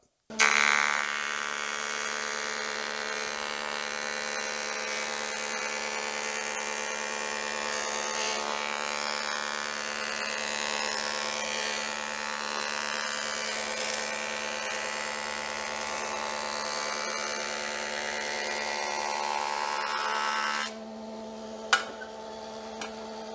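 A woodworking jointer runs steadily with a sustained high whine and buzzing hum as wood is fed across its cutter, holding at an even level until the cut ends and the motor spins down, followed by a faint sharp click.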